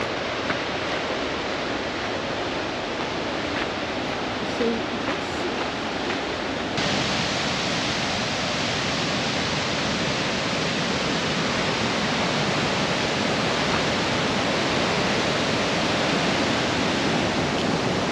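A steady, dense roar of rushing water from a waterfall on a Norwegian nature reserve fills the whole stretch, loud and constant, heard from close by.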